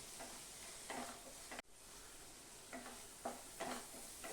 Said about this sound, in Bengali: মশলাটা আমার খুব সুন্দর ভাজা হয়ে গেছে, তেল বেরিয়ে এসছে